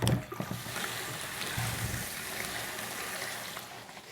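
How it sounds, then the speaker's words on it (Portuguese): Rushing water pours steadily in a continuous broadband wash, fairly loud and close, with a few brief thumps near the start. "Ouça o barulho dessas águas."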